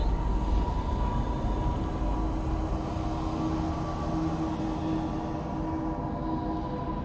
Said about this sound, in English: New York City subway?